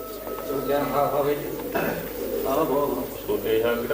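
Pigeons in a loft, among them a female of the palle wali breed, cooing in low continuous rumbles with some wing or movement noise, while someone talks over them.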